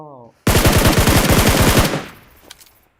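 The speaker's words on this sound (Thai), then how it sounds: "บนเขามียิงกันแล้วก็" Rapid automatic gunfire from a PUBG Mobile match, a loud burst of about fifteen evenly spaced shots lasting around a second and a half. It then trails into quieter echoes and a few faint distant pops.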